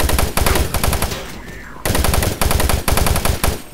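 Rapid automatic gunfire from a weapon in the shooter game Doom 3 rattles out in several loud, sustained bursts separated by brief pauses.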